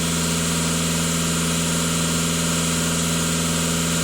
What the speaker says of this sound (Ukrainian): Даю 2000 з половиною оборотів.